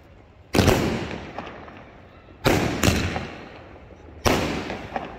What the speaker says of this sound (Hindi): पटाखा निकला, अब ये खिल रहा